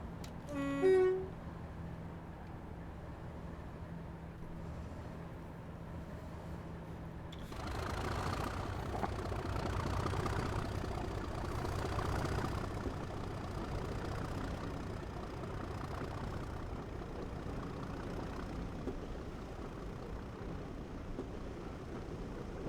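Train running in a train simulator game on a Tamworth route, with a short toot of the horn at the start, a steady engine hum, then a louder rumble of movement that carries on continuously.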